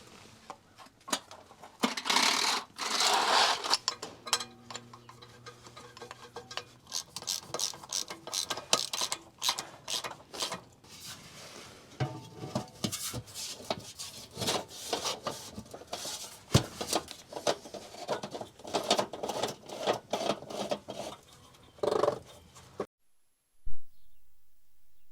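Wrench ratcheting on the filter of a Detroit Diesel engine in an Insley excavator, with repeated close clicking runs and metallic clanks in irregular bursts, and no talking.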